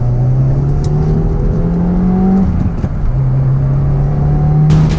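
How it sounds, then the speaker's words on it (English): Cabin view of a 2017 Subaru WRX Limited fitted with an aftermarket exhaust, a steady loud engine drone with a brief dip partway through before the tone picks up again, no talking. "From the factory, these are a little quiet on the interior, but add that exhaust, man, it sounds good."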